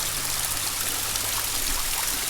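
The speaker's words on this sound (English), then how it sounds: "down here you have the waterfall on 2 or 3 sides" A waterfall swollen after three or four days of rain at a mid-October campground in Branson rushes steadily, a dense, continuous wash of falling water close by with no voices.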